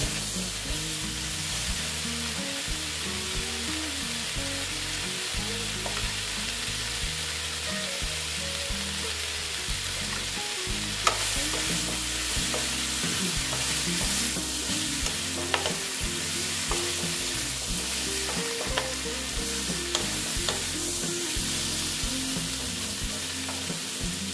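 Squash and potato curry with boiled chickpeas stir-fries in a pan, with a loud continuous sizzle and a repeated scraping spatula rhythm running throughout, with no voice over it.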